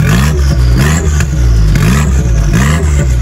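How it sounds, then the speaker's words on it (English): A three-cylinder BMW i8 with a custom McLaren 720S exhaust revs hard in repeated loud bursts, its raspy exhaust rising and falling close by with no voices. "this car has a custom exhaust from a McLaren 720S. It sounds incredible."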